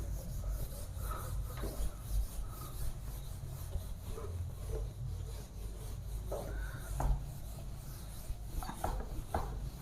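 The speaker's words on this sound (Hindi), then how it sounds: "तो चलिए इसको रब कर देते हैं हम।" Chalk being rubbed off a classroom board, a soft scratchy scraping in uneven strokes over steady low room noise, close and fairly quiet, with no talking.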